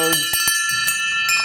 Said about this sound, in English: But here's their team bells